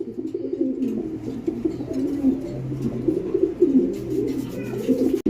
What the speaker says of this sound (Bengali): পাকিস্তানি টেটি কবুতর